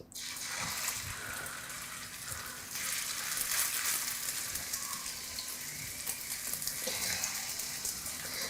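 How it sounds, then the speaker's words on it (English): Kebabs frying in a pan of oil, a steady, fairly loud crackling sizzle that runs continuously with small pops and bursts throughout, no voices. "I'm going to add my kebabs to the pan."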